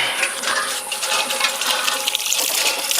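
Water runs from a hand-operated tap outdoors in a steady, loud, splashing stream with no break, and no one speaks over it.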